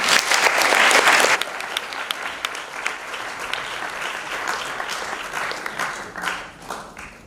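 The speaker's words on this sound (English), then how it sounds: "Let's please welcome him by a round of applause." At a vocal arangetram an audience applauds to welcome a guest speaker, loud clapping at first that quickly thins into a lighter scattered patter before fading out.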